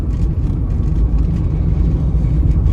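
A truck rumbles past close by on a narrow Amish country backroad, a loud, steady low engine and tire drone filling the whole moment without any voices.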